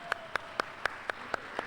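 Crowd at an Action Zone Wrestling match claps in unison, a steady beat of about four sharp claps per second over a low hum of the arena, with no talk.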